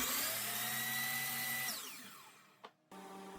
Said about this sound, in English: I'm drilling with about a 3/4 inch Forstner bit here